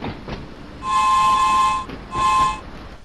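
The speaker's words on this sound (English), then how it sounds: "this type of train that was introduced to the London Underground in 1938" A 1938-stock London Underground train on the Island Line in Train Sim World 2 runs with a steady rumble, broken by two loud, sustained tonal squeals or whines, each lasting about a second, with no talk.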